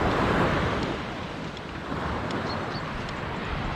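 Sea waves washing onto a winter beach in Halkidiki, a broad steady roar of surf mixed with wind buffeting the microphone, loud and close with no voices.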